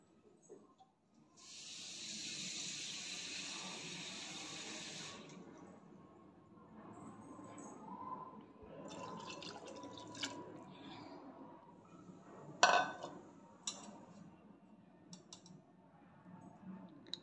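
Water is poured into rice and lentils for rasam rice: a steady, fairly close splashing pour of about three seconds, followed by softer drips, clicks and a sharp clink.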